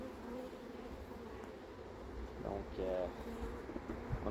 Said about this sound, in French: On a beaucoup d'abeilles ouvrières, les butineuses, qui sont à l'extérieur.